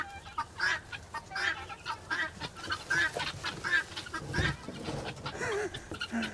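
Backyard chickens cluck in a busy, overlapping chatter of short repeated calls, fairly close but soft, with no talking.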